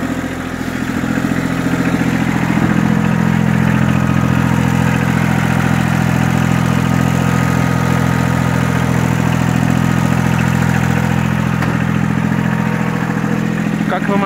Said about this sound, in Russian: двигатель работает исправно, без посторонних звуков